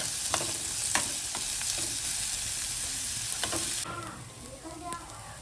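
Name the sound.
onion being fried and stirred in a pan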